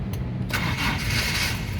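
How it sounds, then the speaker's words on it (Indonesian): A 2000 Toyota Kijang 1.8 LGX manual car's engine being started, with a short cranking burst that catches into a steady, close running engine noise. "Nah, kita coba nyalakan mobil ya."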